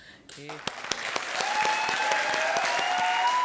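Audience applause erupts at a televised comedy show, starting with a few claps and quickly building into sustained, dense clapping from a large crowd, with a brief voice at the start.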